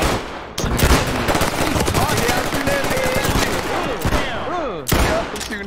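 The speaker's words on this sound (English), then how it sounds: "Shooting at me, fool." Rapid bursts of automatic gunfire crackle in a SWAT-versus-cartel shootout in the game Ready or Not, dense and loud, with sharp breaks between volleys and shouted voices mixed underneath.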